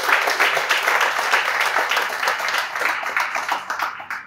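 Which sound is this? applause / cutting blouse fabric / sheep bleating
applause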